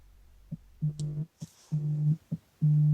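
Telephone busy tone after a call is hung up, short repeated beeps at a steady rhythm, close and clear with no talking.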